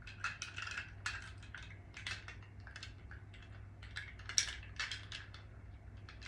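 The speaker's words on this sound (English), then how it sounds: "Kind of hard to stir these big cubes." Large ice cubes stirred in a Mamie Taylor cocktail glass, giving a run of close, irregular clinks and knocks over a steady low hum, with no talking.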